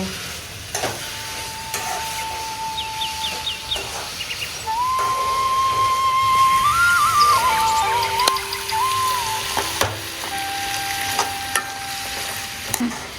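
Tomatoes fry in a pan until their skins shrink, giving a steady low sizzle. Thin whistling tones rise and fall above it, with occasional light clicks.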